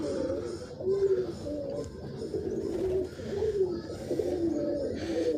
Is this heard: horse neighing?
no